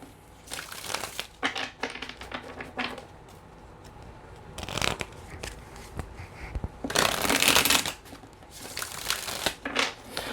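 Cards are shuffled repeatedly in bursts, riffling and snapping close by, with short pauses between rounds.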